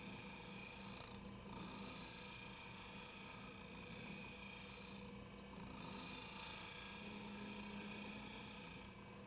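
A wood lathe spins a sphere blank while a spindle roughing gouge trues it up, giving a steady broadband whir with a low hum and rhythmic dips as the cut comes and goes, continuous and fairly near.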